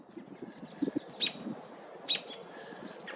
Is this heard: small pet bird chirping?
yes